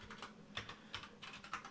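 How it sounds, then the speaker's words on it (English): Typing on a computer keyboard at a Windows PC: a short run of soft, close keystroke clicks in quick, uneven rhythm, quiet and alone with no talking. "Let me just type this out."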